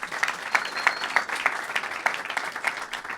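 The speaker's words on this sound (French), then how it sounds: "On peut l'applaudir, il est courageux." Applause from a seated live audience at a French-language comedy show, a fairly thin patter of clapping with a few sharper individual claps standing out, steady for about three seconds with no talk on top.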